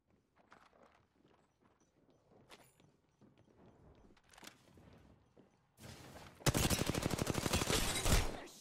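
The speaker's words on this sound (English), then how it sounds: "They're shooting at me." Gunfire in the video game Apex Legends, at first scattered distant shots and footsteps, then a loud rapid burst of automatic fire near the end.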